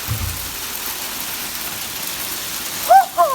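An April hailstorm beats down outside a garage as a steady broadband rushing clatter, with a brief voice near the end.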